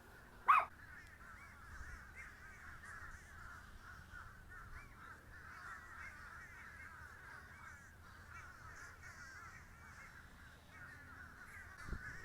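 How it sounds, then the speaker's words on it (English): A large flock of crows caws steadily from a distance outdoors in winter, forming a continuous, overlapping chorus with one sharper, nearer call early on and another near the end. "there's 10 bajillion crows over there"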